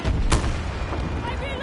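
A grenade goes off in a shooter video game: one sharp, close blast early on, followed by a rumbling decay.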